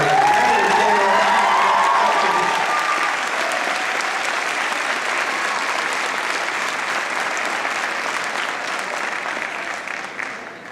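A full room at an art museum talk bursts into loud, sustained applause mixed with cheering and whoops, a voice briefly audible at the outset, the clapping slowly easing off toward the end.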